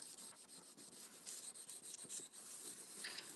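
A burnishing stick rubs across paper in a crafting session, giving a close, soft scratchy rasp in repeated strokes with no talk.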